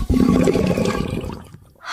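An enchanted ancestral vase gulps down water: a rushing, gurgling swirl like a draining flush surges loudly, then thins out and drains away within about two seconds.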